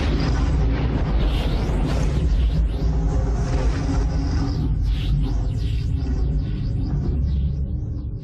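Deep, continuous thunderous rumble of an electrical storm on Jupiter, loud and dense, with sweeping whooshes rolling through it and no voices.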